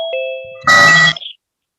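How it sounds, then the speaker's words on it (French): Chiming phone notification tones ring out during a Zoom session, a couple of clear electronic dings followed by a louder burst of overlapping alert sounds, near and sharp with no talk. "Ça fait des notifications, ça n'arrête pas de sonner."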